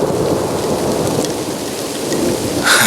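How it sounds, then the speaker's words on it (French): Heavy rain pours steadily outdoors in a thunderstorm under a low rumble of thunder, loud and continuous, with a brighter gust of rain near the end and no one speaking. "C'est pas des conneries, il y a vraiment de l'orage."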